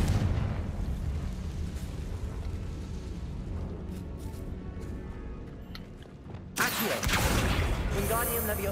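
In Hogwarts Legacy, a Confringo spell goes off with a sudden loud, fiery blast late in the sequence. It follows a stretch of rumbling game ambience and a spoken voice.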